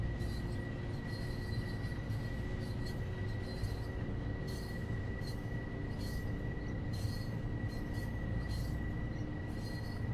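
In the LIRR: Commuter video game, a train climbs a 2% grade with a steady, continuous rumble and wheel-on-rail noise, a constant whine, and faint intermittent squeals over a dense, even background.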